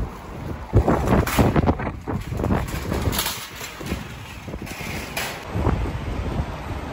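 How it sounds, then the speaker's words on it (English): Strong wind buffets a handheld microphone outdoors in the Ginza area of Tokyo, producing continuous low rumbling gusts and rough bursts of noise with no voice heard. "it's super windy, so I don't know if you can hear me"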